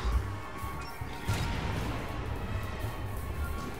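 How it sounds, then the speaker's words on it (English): Muffled crashes and bursts from explosions in the video game Resident Evil 6 in a subway station, a sharp impact near the start and another just after a second, over a rumbling backdrop. "Cool explosions. Michael Bay explosions."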